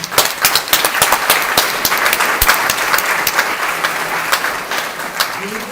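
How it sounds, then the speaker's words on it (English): A town hall audience claps for legislators in sustained, fairly close applause. The crisp, uneven claps continue for several seconds without fading. "I'm going to ask you to do a round of applause for your legislators"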